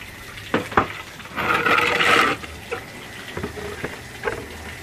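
Hands squeeze and knead soaked material in liquid while making organic liquid fertilizer from cow urine: close squelching, wet slaps and sloshing, with one longer splashy churn midway and no talk.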